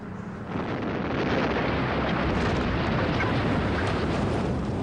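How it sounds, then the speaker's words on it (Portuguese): An explosion welding blast: a deep explosive blast erupts into a sustained, heavy roar of rumbling noise that continues without letting up. "E isso é chamado de soldagem por explosão."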